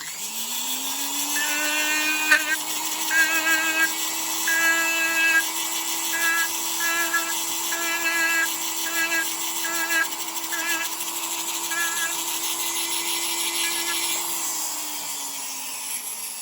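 A rotary tool whines steadily as it polishes the feed ramp of a Canik MC9 pistol, a high spinning tone that rises at the start and winds down at the end, with intermittent grinding as the bit touches the metal.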